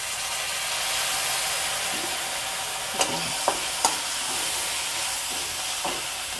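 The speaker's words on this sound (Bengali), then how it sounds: "ভিনিগার ঢেলে দেওয়া হচ্ছে।" Vinegar hits onions, garlic and spring onions frying in a pan for cabbage veg Manchurian, giving a steady soft sizzle and hiss with a few sharp stirring clinks.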